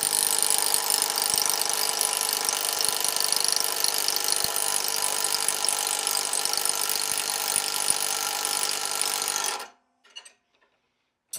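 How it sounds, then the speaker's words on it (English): An Ingersoll Rand electric impact wrench fitted with a 13/16 socket runs in one loud, steady, rattling hammering burst for several seconds, then cuts off into near silence. "I'm going to run it on there just to see if it will take this. I'm using 13/16 socket."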